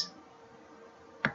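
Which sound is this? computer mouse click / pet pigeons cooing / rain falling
computer mouse click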